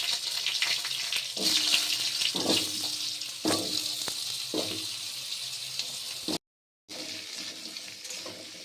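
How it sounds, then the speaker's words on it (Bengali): Whole cumin, dried chillies and bay leaf sizzling in hot oil while cooking a rohu fish curry with curry leaves, a steady crackling hiss with several sharp pops and spits, close up with no talk. "তেল গরম হয়ে গেছে, এবার আমি গোটা জিরে দিলাম, শুকনো লঙ্কা, তেজপাতা দিলাম।"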